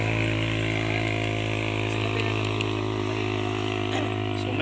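A motorcycle engine climbing an uphill road, a steady droning hum held at a constant level throughout, with faint voices in the background.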